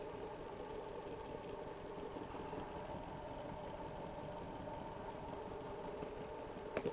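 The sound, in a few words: permanent magnet generator running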